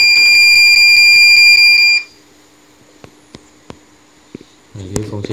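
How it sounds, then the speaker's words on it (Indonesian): A Kedee KD-TS6A tissue processor sounds a loud, steady electronic alarm tone for about two seconds after its sensor is bumped, then cuts off, leaving faint clicks and a low hum. "Jadi fungsinya ketika itu kesenggol nanti akan ada alarm menyala, kemudian prosesnya akan stop."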